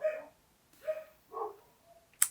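Dogs barking indoors in a home, three or four separate short barks and yips spaced apart at moderate distance, fairly quiet, with no talk over them.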